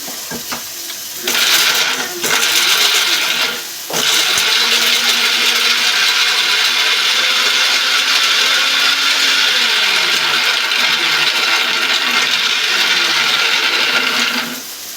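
A mixer grinder whirs loudly and steadily as it grinds fried tomatoes, starting with a couple of short bursts before settling into a long, continuous high-pitched run that stops abruptly at the end, with no talking.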